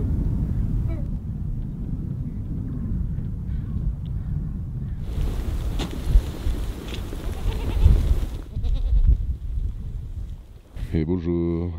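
Goats in Mongolia give a short, wavering bleat near the end, after a stretch of rumbling wind noise and handling sounds outdoors, with people talking at times.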